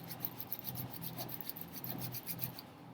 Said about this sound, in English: we're just rubbing our hands together like we're creating a fire